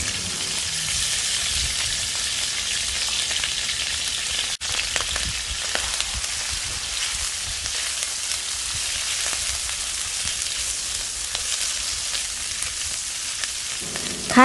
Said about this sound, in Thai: น้ำมันเริ่มร้อนเราก็ใส่ตับที่เราลวกจนสุกแล้วลงไปค่ะ